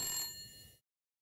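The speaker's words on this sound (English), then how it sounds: "Phone's ringing." A telephone rings inside the survival game The Long Dark, a single fading electronic bell tone that lasts under a second and then cuts to silence.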